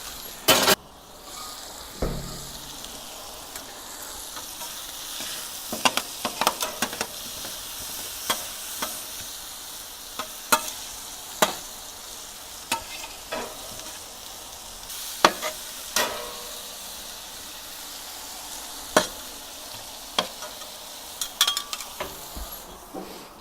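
Ribeye steak and onions fry on a salvaged gas grill converted to a griddle, a Weber Spirit, giving a steady soft sizzle with scattered sharp clicks and scrapes from stirring and turning, and no talking.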